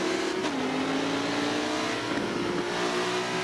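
Race car engines, a McLaren and a Lamborghini, in the Forza 7 video game at Yas Marina: a loud, continuous engine drone whose pitch climbs gradually, with no voices.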